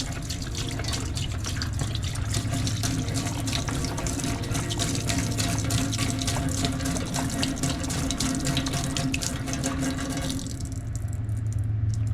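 Water pours steadily into a Harbor Freight Central Machinery parts washer, a constant splashing rush at close range that thins out and drops away near the end, with no voices.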